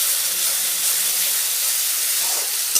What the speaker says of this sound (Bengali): মশলা ভাজা হয়ে গেছে, তেল ছেড়ে দিচ্ছে।